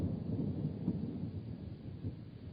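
A low, rolling rumble of thunder from a thunderstorm fills the whole stretch, dense and continuous, with soft rain-like hiss mixed in and no voices.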